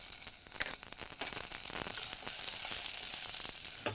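Carrots, beans and peas sauté in a pan with spices, a close, steady sizzle broken by scrapes and crackles as the vegetables are tossed, with no one speaking.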